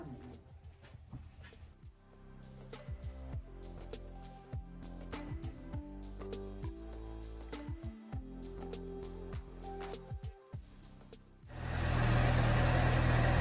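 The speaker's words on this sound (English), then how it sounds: "Let me put my car outside because I'm gonna clean my garage right now" A car started and driven out of a home garage, its engine running at a low idle with changing pitch as it moves, ending in a louder, sustained broadband rush.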